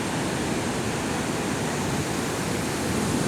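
Athirapally waterfall pours down in a dense, steady roar of crashing water, loud and close, with no voices.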